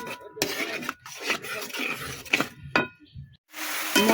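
A spatula scrapes and clinks in a pan as spice paste with ground poppy seed paste is stir-fried for potato curry, in short irregular strokes with brief pauses, close and fairly quiet.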